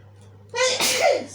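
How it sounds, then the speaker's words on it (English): A single loud, close sneeze: a short breathy intake followed by a sharp voiced burst that trails off, with no talking over it. "I'm gonna sneeze."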